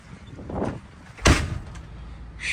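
A single solid thud of a 1977 Winnebago motorhome door closing lands partway through, preceded by rustling and strong wind buffeting outdoors.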